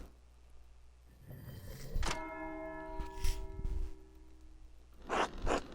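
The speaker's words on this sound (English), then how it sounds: "That's the bell for Sext." Church bell tolling for Sext prayer in the video game Pentiment, a sustained ringing strike with long resonant overtones, followed by a few softer clunks and a later muffled rustle, all fairly close and without talk.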